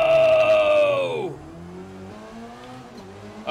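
Race cars launch at the start of a Forza Motorsport race: one engine revs high and loud, then drops as it shifts, followed by lower engine drones that keep pulling away.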